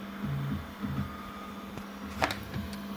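A Creality K1 3D printer starts a print, its motors whirring with a steady low hum and a few soft mechanical pulses, then a brief sharper burst near the end, close and moderately quiet.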